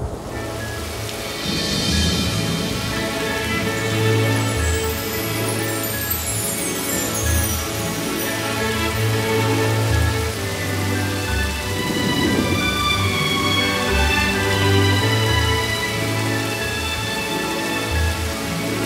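Heavy rain pours steadily and loudly, a dense continuous hiss with rumbling thunder beneath it throughout.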